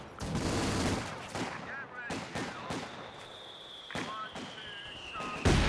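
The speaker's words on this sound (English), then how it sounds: "and now they take a mortar shell." In a Company of Heroes 2 battle, troops come under gunfire and a mortar shell, with sharp cracks and bursts of shots, a few louder explosive impacts and a whistling tone, while a voice talks over part of it.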